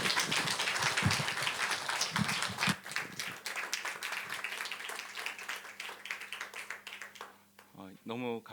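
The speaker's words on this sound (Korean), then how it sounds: "감사합니다 하는 마음으로 박수하며 맞이하겠습니다" A church congregation claps to welcome a missionary serving in Battambang, Cambodia, the applause dense and steady from the room for several seconds before it fades, with a short stretch of speech at the end.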